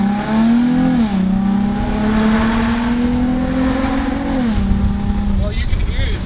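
A Nissan 350Z convertible fitted with a K&N Typhoon cold air intake accelerates on a busy road. Its engine note climbs steadily for several seconds, dips briefly, then rises again, loud and close, with a faint voice in the background.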